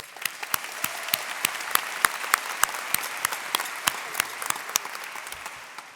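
Graduating high school students at a 2022 commencement ceremony applaud themselves, a steady patter of many distinct hand claps at moderate level filling the whole stretch without voices.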